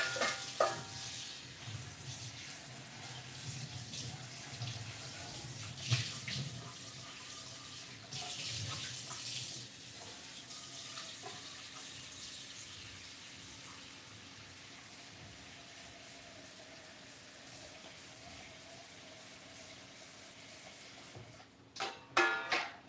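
Tap water runs steadily into an IKEA pot to add about an inch for steaming, a continuous close hiss that fades out near the end with a few clatters.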